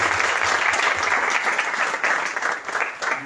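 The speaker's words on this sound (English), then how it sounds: "I think we should give a big round of applause for all of them." Audience applause at the closing ceremony of a robotics competition in Goa, a dense steady wash of many hands clapping together, loud and sustained throughout with faint voices beneath.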